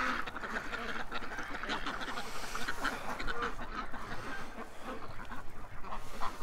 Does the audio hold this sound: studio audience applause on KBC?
no